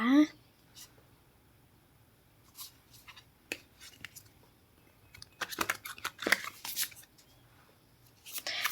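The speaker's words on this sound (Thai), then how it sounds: "อธิษฐานเปิดไพ่กันเลยนะคะ" Tarot cards are laid out and flipped during a reading, with soft scattered card slaps, shuffles and paper rustles, busier toward the end, close and fairly quiet with no speech.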